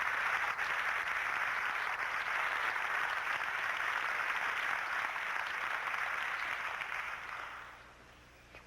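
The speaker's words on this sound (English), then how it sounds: "Let's give a real hand of applause, if you will, to John Quade." Sustained applause from a large audience at a preparedness expo, a dense steady wash of clapping lasting about seven seconds before thinning out near the end.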